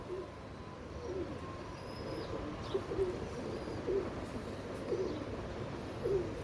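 A large male teddy pigeon coos in soft, low repeated calls spaced about a second apart, faint and fairly close against a steady background hum.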